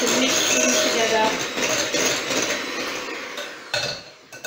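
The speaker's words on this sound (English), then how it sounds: "Give it a whisk around." A whisk clatters quickly around a mixing bowl of carrot cake ingredients, a busy rapid metallic clinking that slows and trails off, with someone talking over part of it.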